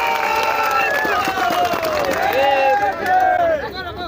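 A crowd at a nursing recruitment protest sit-in in Rajasthan cheers and claps loudly and continuously, with shouting voices and whistles over dense babble throughout.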